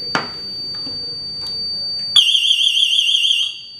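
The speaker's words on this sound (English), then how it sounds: "that siren will keep going for a minute, and then it would eventually cut out" After a few faint clicks, a loud electronic siren from a Paradox wireless alarm system starts suddenly, warbling in a high, piercing tone and holding steady nearby.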